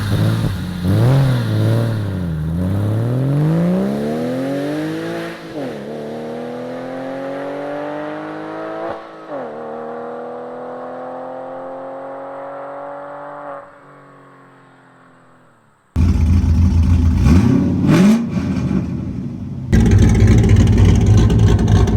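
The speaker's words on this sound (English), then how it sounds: "This is my 911 with aftermarket exhaust and my Corvette cammed out" A Porsche 911 with aftermarket exhaust and a cammed C5 Corvette V8 rev repeatedly: several rising and falling engine sweeps that slowly wind down, then loud, choppy, lumpy idling and blipping from the cammed V8 up close.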